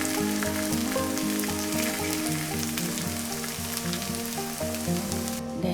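Aged-kimchi pancake batter sizzles and crackles steadily in a hot frying pan, close up and continuous, with soft rhythmic music playing underneath.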